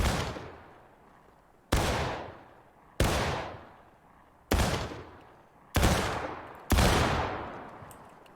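Gunfire on a shooting training range, six loud single shots fired at irregular intervals about one to one and a half seconds apart, each with a sharp crack and a long decaying echo.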